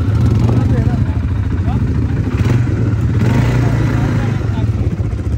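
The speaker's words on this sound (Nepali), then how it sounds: "मेरो बुढो बाइकमा कुदेको अवस्था" A motorbike rides over desert sand on a Dubai desert safari, a loud continuous engine drone heard close, with people talking over it.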